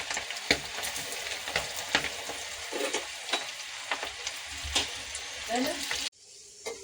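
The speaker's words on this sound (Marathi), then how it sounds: "तेल गरम झालेलं आहे, भेंडी फ्राय करून घेऊया" Okra sizzling in hot oil in a pan over a medium flame, a steady frying hiss broken by stirring clatters and scrapes, before the sizzle cuts off abruptly near the end.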